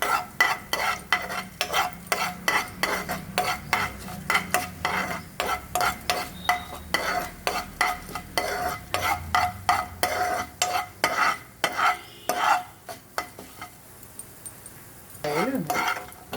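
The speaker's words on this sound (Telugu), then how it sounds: "కొంచెం మినప్పప్పు, వేపుకోవాలి." Urad dal frying in a pan for a gourd chutney, with rapid repeated scraping strokes of a spoon against the pan over a low sizzle, pausing briefly near the end.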